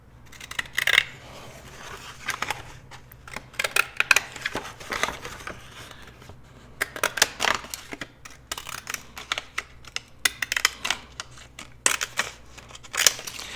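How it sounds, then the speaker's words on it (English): Small crisp snips of decorative-edge scissors cutting out a paper stamp, coming in quick irregular clusters with brief pauses between. "I think I'm going to cut this stamp out right here"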